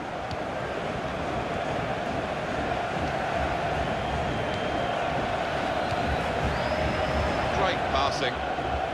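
A stadium crowd in the FIFA 16 video game, during a women's international match between China and Spain, keeps up a steady, loud roar of cheering throughout, a dense continuous wash of noise with no break.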